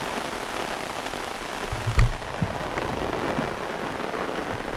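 Steady rain pours down over a rural plot of land for sale, a continuous dense hiss with a couple of brief louder knocks midway, with no voices.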